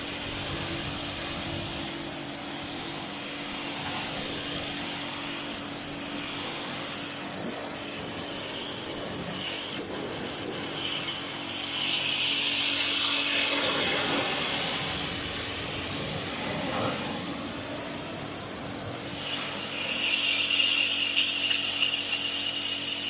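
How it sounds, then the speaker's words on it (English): Jet washing a stored koi pond cover outdoors, a steady loud hiss of spraying water that shifts in tone as the nozzle moves, with mechanical hum underneath throughout. "it's been stored around the back, so I need a bit of a jet wash"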